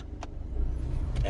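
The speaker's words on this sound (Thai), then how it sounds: "เปิดแอร์ตรงนี้ครับ" The air conditioning in a parked 1999 Honda City Type Z 1.5 EXi manual sedan gives a steady blower hiss that builds slightly, with a couple of faint clicks from the controls inside the cabin.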